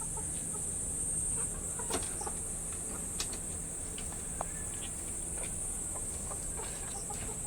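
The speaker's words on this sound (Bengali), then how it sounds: "তো আমাদের এই দেশি এই মুরগিটাকে ছেড়ে দেবো এখন যা বেরিয়ে যা" A desi hen let out of its coop clucks a few times, faint and brief against a steady drone of crickets and insects outdoors.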